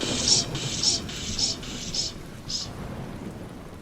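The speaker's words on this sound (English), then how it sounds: "onwards they rode through the pouring rain" Pouring rain with thunder, a steady dense hiss of downpour broken by a series of bright crackling bursts, recorded close and fairly loud throughout with no voices.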